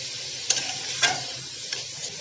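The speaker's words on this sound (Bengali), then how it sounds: "এবার নেড়ে চেড়ে এটাকে খুব ভালো করে কষিয়ে নিতে হবে।" Ridge gourd stirred and sautéed with poppy seed paste in a pan: a few soft spatula scrapes over a faint steady sizzle, close by and quiet.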